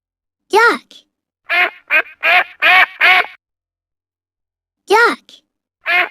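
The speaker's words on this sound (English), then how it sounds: "Duck." A duck quacks in loud, close bursts: a harsh call, then a quick run of five quacks, and after a pause two more, with silence between.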